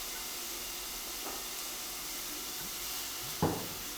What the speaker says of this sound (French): Nous chauffons un petit peu de l'huile. On rajoute l'oignon.